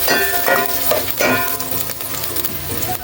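Sliced ginger sizzles in hot oil in a frying pan while being stirred, a close crackling fry broken by a few scraping strokes of the spatula against the pan.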